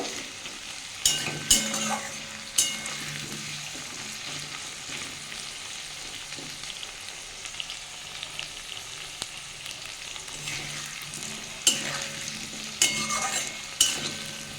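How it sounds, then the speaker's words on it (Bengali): Potatoes frying in hot oil, a steady soft sizzle with occasional sharp clinks and scrapes of a spatula stirring the pan, close and moderately quiet. "আর একটু ভেজে আমি আলুটা তুলে নেব"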